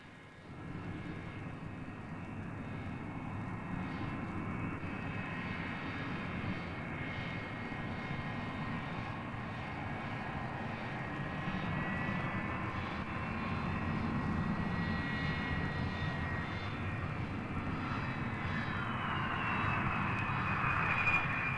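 A steady airplane engine drones throughout a landing sequence in a film, a continuous broad roar with faint high whining tones that swells slightly louder toward the end, with no voices.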